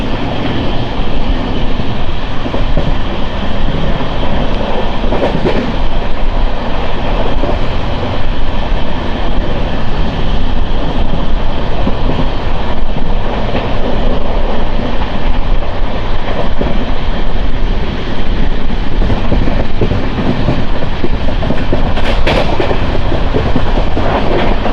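An LHB passenger train on the Guntur to Vikarabad route runs through a station without stopping, a loud steady roar with rhythmic clickety-clack of wheels over rail joints throughout.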